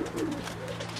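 A black and blue Teddy pigeon coos in soft, repeated throaty pulses close by, with a steady low hum underneath.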